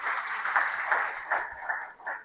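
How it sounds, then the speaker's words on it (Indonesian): Brief burst of congregation applause in a church service, clapping that swells and fades over a couple of seconds. "Beri tepuk tangan buat Tuhan."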